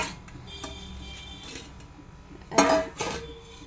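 Leftover rice mixed with flour in a metal kitchen vessel gives scattered clinks and scrapes, with a few louder clattering knocks toward the end, close and fairly faint.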